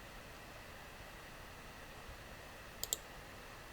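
Two quick, faint mouse clicks in close succession, made while working in Tableau software on a computer, set against a steady background hiss.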